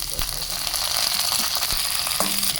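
Finely chopped garlic sizzling in hot oil in a pan, a steady close crackle with a few soft stirring knocks.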